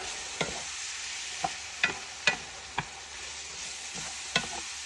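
Sausage and rice sizzle steadily in a pan while a utensil scrapes and taps against it every second or so, close by and without voices.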